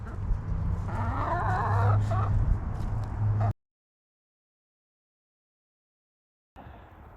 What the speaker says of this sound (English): My roosters are fighting